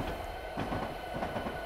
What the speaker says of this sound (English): I hope our double stack train can make it through this tunnel.